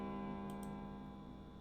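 An antique wall clock in the video game 999 ticks steadily and close, with a faint ringing tone hanging behind the ticks.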